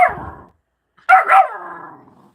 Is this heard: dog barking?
yes